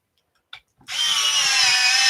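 Electric pencil sharpener grinding a coloured pencil: a short click, then the motor starts and runs at a steady, loud, close whine.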